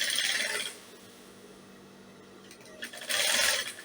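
A sewing machine stitching a princess dart top at about a quarter-inch seam runs in two short, close whirring bursts with a quiet pause between them.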